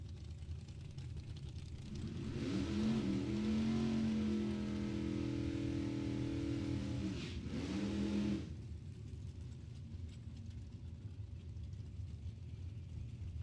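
A dragster at the World Super Pro Challenge 2021 drag racing event revs hard, its engine roaring loudly for about six seconds with a brief dip midway, then dropping back to a lower background rumble.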